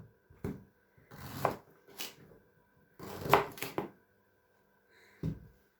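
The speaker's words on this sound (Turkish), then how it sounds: "Yıkadığım pancarlarımı dilimleyeceğim." A knife slices through firm beets on a board in a handful of separate close, crisp chops with short pauses between them.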